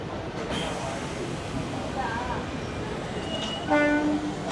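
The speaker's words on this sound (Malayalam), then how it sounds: "അപ്പോൾ ഇതാ കയറി വരുന്നു നമ്മുടെ ട്രെയിന്." An air-conditioned EMU local train in Chennai pulls into a station platform, a steady broad rumble building throughout, with a brief tonal horn or brake whine near the end and announcement-like voices faintly behind.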